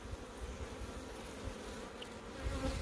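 Honey bees buzz around freshly broken honeycomb in an open hive, a dense, continuous drone close by with a slightly louder swell near the end.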